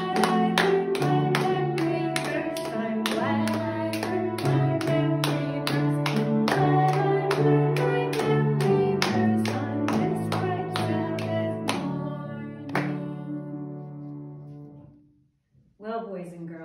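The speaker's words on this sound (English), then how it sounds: "Let's clap our hands and sing" Rhythmic hand clapping keeping a steady beat under a sung children's song at a Cradle Roll Sabbath School, claps and voices together for most of the stretch before fading into a brief pause and a few closing notes.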